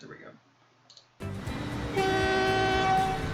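A train horn in the Transport Fever 2 video game sounds as a loud, sustained steady tone over a continuous rolling rumble of the moving train, which starts abruptly partway in after a quiet opening.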